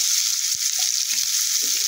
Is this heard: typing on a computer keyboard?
no